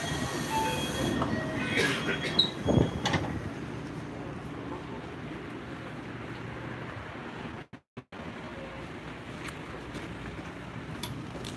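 Steady rolling rumble heard from inside a moving train in Japan, with a brief wheel squeal and rattle early on and a short dropout near the end, continuous and moderately loud.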